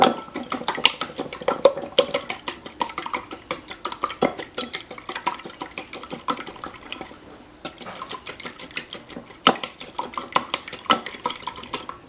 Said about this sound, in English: Using a fork or a whisk, we're going to break the yolks, like so, and whisk them all together.